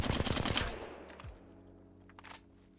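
The Havoc, an energy rifle in Apex Legends, fires a fast automatic burst for about half a second, then its echoing tail and faint mechanical clicks fade into quiet.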